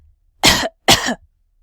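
Two short, close coughs in quick succession, followed by silence.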